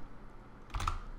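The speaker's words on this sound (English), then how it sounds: "So here, I'll type in the same thing," Keyboard typing while entering text into a SharePoint web address field: a short, close burst of a few key taps near the end, after a near-silent lead-in.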